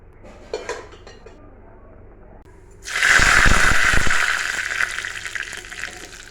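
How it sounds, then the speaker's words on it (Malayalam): Mustard seeds sizzle in hot oil for tempering a homestyle curry of jackfruit seeds, lentils and drumsticks. After a few soft clinks of utensils, a sudden loud hissing sizzle bursts out and slowly settles. "ഇനി നമുക്കിത് കടുകിട്ടിട്ട് ഒന്ന് വറവിടാം"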